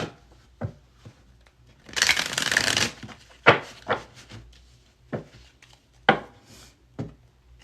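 A deck of tarot cards is riffled in a dense burst lasting about a second, followed by scattered sharp taps and card slaps on a table, close and loud, with no talking.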